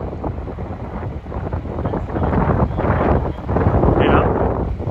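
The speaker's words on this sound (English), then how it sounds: "Wind's blowing it all away." Wind buffets the microphone across an open field during a soybean harvest, a loud rough rushing that surges and eases in gusts, with a faint voice at times.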